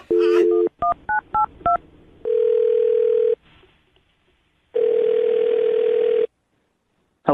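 Telephone dialing: a steady dial tone, a quick run of several DTMF keypress beeps, then long tones with a pause between them, loud and close with no talking.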